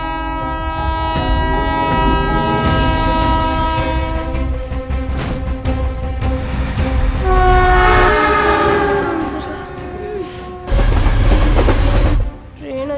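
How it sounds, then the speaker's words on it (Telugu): A train rolls past with a loud, sustained horn blast and dense rumble, the horn swelling then cutting off before a second heavy burst of wheel noise near the end. "ట్రైన్ వచ్చేటప్పుడు కళ్ళు కాదురా,"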